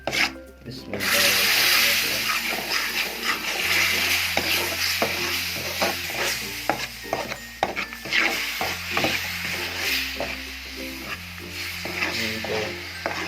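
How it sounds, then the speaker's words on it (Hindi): Sugar syrup poured into roasted gram flour for halwa, then stirred in the pan, giving a steady close sizzle with repeated scraping and rubbing strokes of the spoon, loud and continuous with no talk. "तो अब हम इसमें शीरा बनाया हुआ डाल देंगे।"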